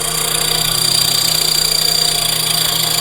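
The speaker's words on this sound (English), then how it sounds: "Putting a 5/16 inch mortise into the breadboard ends here." A steady, loud machine drone while a 5/16 inch mortise is cut into the breadboard ends of a Chippendale slant front desk, continuous and unbroken with no voices.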